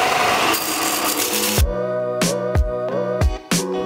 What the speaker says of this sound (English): Let's go ahead and sand this thing flat.